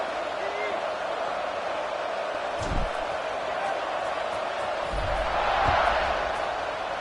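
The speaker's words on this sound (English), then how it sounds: "this crowd is buzzing after that last score" A stadium crowd at a college football game featuring Coastal Carolina keeps up a steady, distant buzzing roar beneath play-by-play commentary, swelling slightly near the end.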